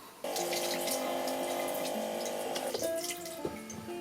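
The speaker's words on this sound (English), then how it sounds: "you get running water out of it, which is really nice" Water gushes steadily from a tap close by, with a tonal hum from the flow, then shifts and tapers slightly near the end.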